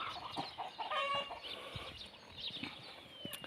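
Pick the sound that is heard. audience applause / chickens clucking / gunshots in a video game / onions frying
chickens clucking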